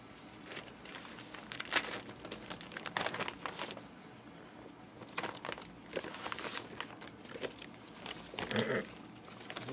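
Crinkling and tearing of a sticker pack wrapper at a sports trading card case break, with scattered crackly bursts and rustles throughout, fairly faint and close.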